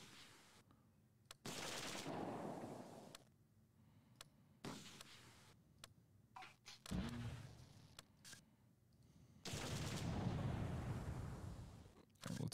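Gunfire and mortar fire in the World War II video game Close Combat 2, with bursts of shots and heavy blasts rumbling at irregular intervals between quieter gaps.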